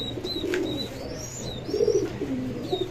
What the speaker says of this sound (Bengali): এখানে আপনার কাশ্মীরি রেসার কবুতর আছে এক জোড়া, ডিম নিয়ে বসে আছে